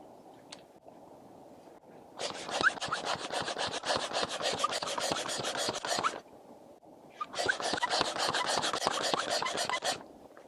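A brush scrubs inside a drilled bolt hole, two sustained bursts of rapid, raspy back-and-forth scrubbing, close and fairly quiet, separated by a short pause.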